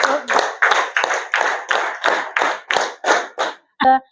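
A group claps in unison during a classroom ice-breaking game, about ten loud, evenly spaced claps in a steady counted rhythm, then a short pause and one final clap.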